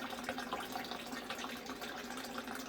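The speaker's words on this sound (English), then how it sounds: "You can see the water is flowing as though a faucet has been opened." Water pours steadily from a Pro Series PS-C33 sump pump discharge, a continuous faucet-like gush, fairly close and moderate in level, with no talking.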